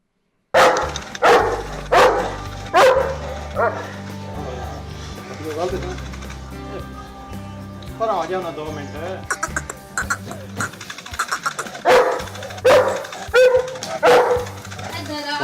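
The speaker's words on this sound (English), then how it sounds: "the bark is something that we can definitely compare, so let's take a look" Cane Corso and Bully Kutta dogs bark in deep, booming repeated volleys, loud and close, with a stretch of lighter yips and whines in the middle.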